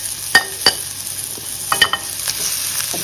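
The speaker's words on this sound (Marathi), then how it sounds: "आता हा मसाला पण 1 सेकंद हलवून घ्यायचं, 1 सेकंद भाजून घ्या।" Masala of chili powder, salt, jaggery, crushed roasted peanuts and coriander stirred and roasted in a pan for red papad curry, with soft sizzling under a few scraping spoon strokes.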